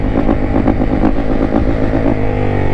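A Yamaha YZ450F dirt bike engine revs steadily up close, a loud, throbbing four-stroke note with rapid pulsing and a slight clatter, running alone without voices.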